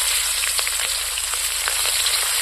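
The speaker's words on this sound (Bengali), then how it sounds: "কড়াইয়ের মধ্যে মাছ ভাজার তেল আছে, তেলের মধ্যে আমি কাঁচা লঙ্কা চিড় দিয়ে দিলাম।" Slit green chillies sizzle in hot oil left from frying hilsa fish in a wok, a close, steady frying hiss scattered with sharp little crackles and pops.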